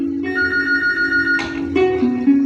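A telephone rings in a home where a caller is awaited, sounding a steady tonal electronic ring that holds for a couple of seconds and then shifts pitch, close and clear, with no voices.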